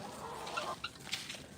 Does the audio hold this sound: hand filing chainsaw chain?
no